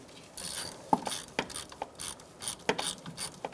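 A ratchet fitted with a 12mm socket works a bolt loose on the rear brake hose of a 2002-2006 Toyota Camry, giving quiet, close clicking strokes in short irregular bursts.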